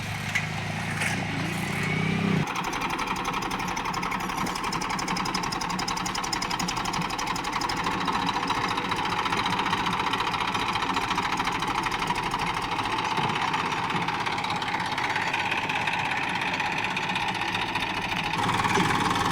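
A tractor engine drones steadily and loudly throughout while pulling a harrow in a field, a continuous mechanical rumble with no voices.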